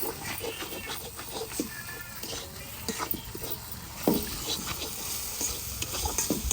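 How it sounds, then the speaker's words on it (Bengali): Chicken curry spices being stirred together in a pot with a spoon, scraping and clinking strokes over a faint sizzle, close and fairly quiet. "সবকিছু একসাথে ভালোভাবে মিশিয়ে নেব।"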